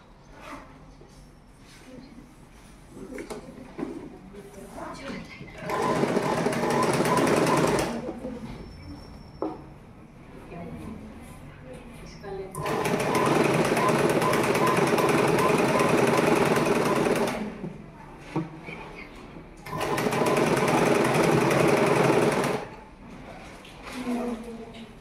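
A sewing machine runs in three bursts of fast, rattling stitching along the folded hem of uniform shorts, with quieter pauses between bursts where a voice talks.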